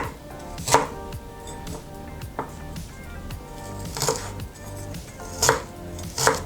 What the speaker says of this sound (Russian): Мелко режу корень имбиря, примерно 2-3 сантиметра длиной.